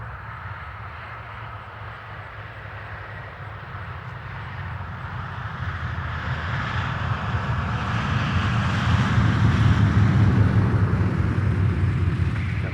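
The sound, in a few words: B-17 Flying Fortress airplane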